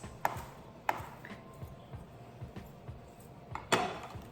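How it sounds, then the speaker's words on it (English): A knife thinly slices food into threads on a cutting board, giving a handful of sparse, sharp chopping taps spaced irregularly against a quiet kitchen background. "And then I'm going to thinly slice it into threads."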